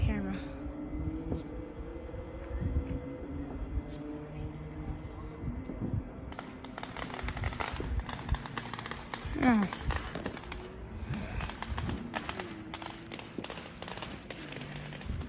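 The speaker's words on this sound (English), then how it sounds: "there's lots of fireworks going on over here" Fourth of July fireworks bang and crackle at a distance in a series of irregular pops, with people talking and exclaiming over them throughout.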